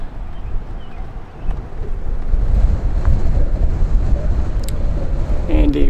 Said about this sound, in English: And a very windy day today.